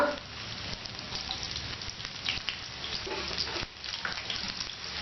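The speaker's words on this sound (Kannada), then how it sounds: "ಈರುಳ್ಳಿ ಸ್ವಲ್ಪ ಫ್ರೈ ಆಗಲಿ, ಬ್ರೌನ್ ಕಲರ್ ಬರಲಿ ಇದಕ್ಕೆ." Onions frying in a pan with whole spices such as cloves, star anise and cinnamon for masala kuska rice, giving a steady, moderately loud crackling sizzle throughout with faint clinks and no talking.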